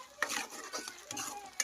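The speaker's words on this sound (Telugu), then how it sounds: "అల్లం పేస్ట్ కూడా పచ్చివాసన పోయేంత వరకు అయితే బాగా ఫ్రై చేసేసుకున్నాము" Ginger paste frying in a pan, with soft sizzling broken up by a few scraping stirs of a utensil, quiet and close.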